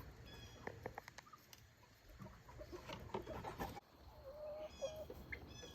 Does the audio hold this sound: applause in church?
no